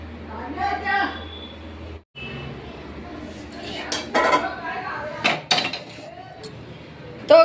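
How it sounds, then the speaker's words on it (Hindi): A kadhai set down on a kitchen stove, with metallic clanks and clinks of pots and utensils scattered through the scene, close by, while someone talks nearby. "तो गाइस इधर रख लिए मैंने कढ़ाई"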